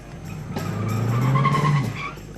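Tires of a 1977 Pontiac Trans Am Firebird muscle car squeal in a long, steady skid over loud engine roar, holding close and strong for about two seconds.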